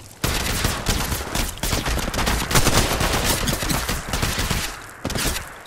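Rapid automatic gunfire in the Apex Legends battle royale game rattles on almost nonstop, loud and close, with sharp repeated shots and only brief breaks.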